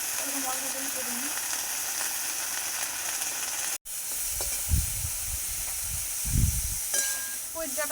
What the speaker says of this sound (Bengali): পুঁই ডাঁটাগুলো একটু ভাজা ভাজা হয়ে গিয়েছে